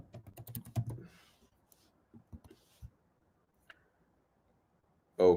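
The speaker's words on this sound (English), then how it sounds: "Typing it out." Rapid keystrokes on a computer keyboard form a loud cluster at the start, then give way to sparse, isolated taps and a louder burst at the end.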